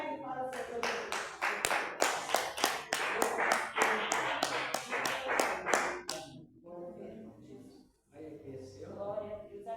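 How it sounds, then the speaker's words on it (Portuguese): A congregation at a worship service claps hands in praise, loud, rhythmic, evenly spaced claps for several seconds before the clapping stops and a voice speaks. "Receba o céu do Senhor com as palmas bem alegres para o Senhor Deus."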